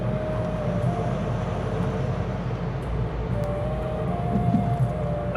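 Heavy lorry traffic on a highway between Chennai and Hyderabad, heard as a steady low rumble of passing trucks and road noise with a faint horn tone drifting through.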